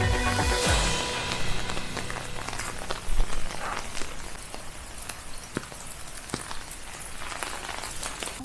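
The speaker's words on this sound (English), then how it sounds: "So yeah, a lot of rain still coming, and that's how it is here at our country house." Heavy rain falls steadily at a small farm's country house, a dense broadband patter with scattered sharper drops and splashes throughout, close and continuous with no talking.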